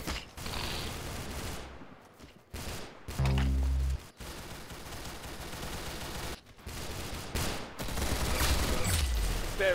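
Rapid bursts of gunfire in a shooter video game, dense and loud, with a heavy boom around the middle and continuous automatic fire throughout, no talk.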